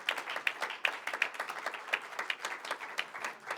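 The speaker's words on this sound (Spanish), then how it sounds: "Pues, den un aplauso al Señor," A church congregation gives sparse applause during a sermon, with a handful of nearby hands clapping in an uneven, quick rhythm. The claps are fairly quiet and carry no voices over them.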